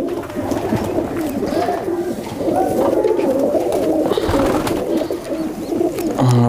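A low-flyer pigeon (kabootar) coos in a steady run of deep, rolling calls close by, with faint background rustling and a sharper sound near the end.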